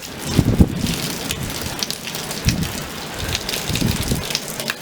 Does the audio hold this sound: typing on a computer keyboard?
no